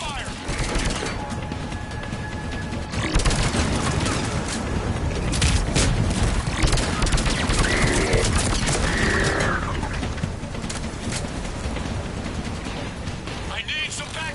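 Mass Effect 3 combat, with dense gunfire and bursts of automatic shots rattling continuously over a booming battle bed, loud and close, and voices speaking over the noise.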